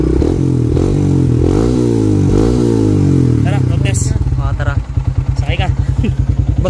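A Yamaha Sniper 150 motorcycle on a road test, engine note rising and falling through several revs, then settling into a steady, pulsing putter up close with a scraping rattle.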